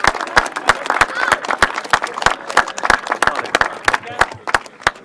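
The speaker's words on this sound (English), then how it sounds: "Please, big round of applause for Rob." Crowd applause for rider Rob at a grasstrack race meeting, a steady run of sharp hand claps close and loud throughout, with cheering mixed in.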